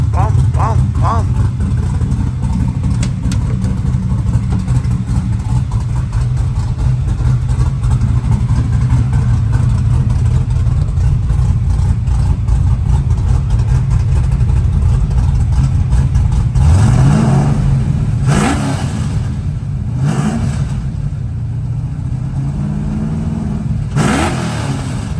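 A Ford Fox-body car engine prepared for drifting settles at idle, then revs up sharply several times near the end, loud and close, with a voice talking over it.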